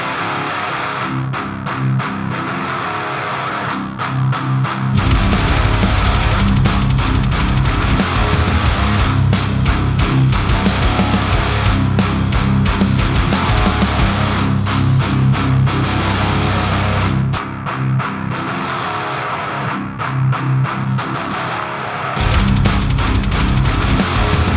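Layered, distorted electric guitar tones are stacked into a studio wall of sound. The result is a dense, loud, continuous roar that thickens at about five seconds and briefly thins near seventeen seconds, with no talking.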